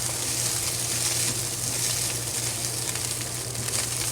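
Rice fries slowly in oil over low heat, giving a steady, soft sizzle with a low hum beneath it, close and continuous, with no talking.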